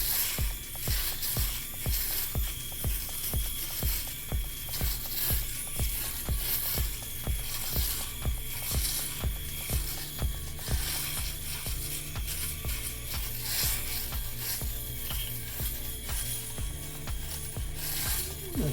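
A Philips Norelco S90 electric razor shaving dry on bare skin gives a steady, loud, close motor buzz with rapid, regular scraping pulses running throughout, alone without speech.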